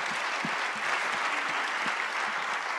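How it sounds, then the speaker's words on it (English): A room full of people at a panel discussion on polarization claps steadily in a dense, sustained round of applause, close and even in loudness throughout, with no voices on top. "I'd love to thank our three speakers with a big round of applause for getting us started."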